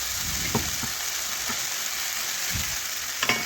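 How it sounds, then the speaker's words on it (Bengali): Spice paste for a fish and yam curry sizzles steadily in a hot pan, with a few soft scraping stirs rising above the constant frying hiss. "এই দেখুন এখন নাড়াচাড়া করে মিশিয়ে মশলা একটু কষে নেব।"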